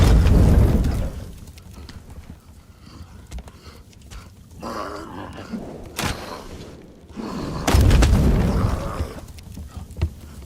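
Fire bombs exploding outdoors, heavy low booms and rumbling blasts from a distance, with sharp bursts rising out of a continuous roaring din.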